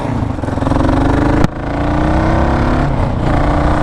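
A Kawasaki KLR 650 dual sport motorcycle rides along at a steady, loud engine drone with rising pitch, a brief sharp click or bump near the middle, and no talk over it.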